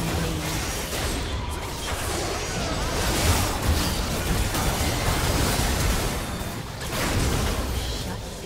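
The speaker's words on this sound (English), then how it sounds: "Blue team's turret has been destroyed." A turret being destroyed in League of Legends: a broad, sustained crashing rumble with swelling bursts of noise, dense and loud throughout with no clear pauses.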